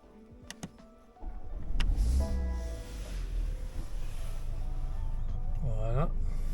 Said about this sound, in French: on va démarrer le véhicule